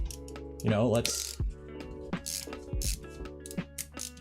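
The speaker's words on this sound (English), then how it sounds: "this has a lighter ratcheting" A small screwdriver's light ratchet mechanism clicks in quick uneven bursts, fairly close, while tightening small M3 screws during assembly of a steel-frame 3D printer kit.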